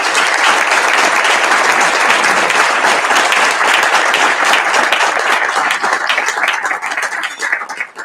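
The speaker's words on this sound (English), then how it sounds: "please welcome your new leaders with applause" A conference audience at a professional association's annual business meeting applauds steadily for new leaders, dense continuous clapping that holds strong throughout and only begins to thin near the end.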